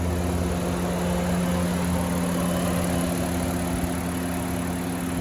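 A 2020 Honda Odyssey Elite idling smoothly, giving a constant, even engine hum with steady low tones and no revving, heard alone throughout.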